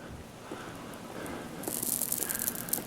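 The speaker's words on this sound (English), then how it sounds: "here's all the sprinklers going over here" Hunter sprinkler heads spray water across rock in a yard, a soft hiss that swells into a louder, broad spattering rush partway through, steady and close.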